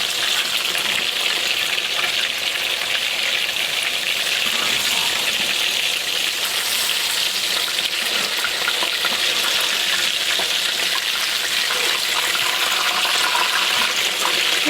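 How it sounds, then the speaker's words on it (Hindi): Kebabs fry in oil in a pan, giving a steady, loud sizzle and crackle that runs unbroken the whole time with no talking. "तो इसको छोड़ते तो अच्छी तरह से दूसरे साइड से भी फ्राई हो जाए"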